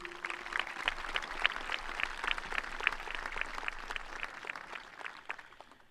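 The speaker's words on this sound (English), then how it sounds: "Give them a round of applause." Audience at a high school graduation ceremony claps steadily in a crowded hall, a dense, moderately loud patter of many hands lasting several seconds before tapering off.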